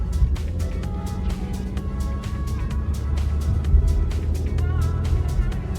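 A car drives through a small town in winter, its engine and tyre noise forming a steady, close rumble with repeated clicks and knocks over the hum.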